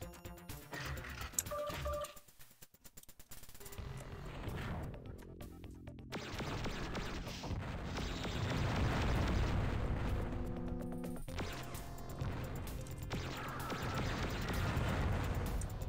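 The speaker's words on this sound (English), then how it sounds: "Two mega missiles." Two mega missiles fire and explode in the game Descent, a loud, sustained roar of blasts and rumbling booms that swells after a brief lull and stays dense to the end.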